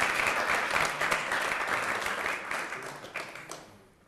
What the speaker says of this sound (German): Und jetzt dürfen Sie es auch mal zeigen, dass wir heute auch Publikum haben und heftig Beifall geben